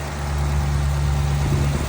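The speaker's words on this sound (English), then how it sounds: "the engine looks like and sounds like." Car engine idling, heard close, a loud, steady low rumble with a constant hum and no speech over it.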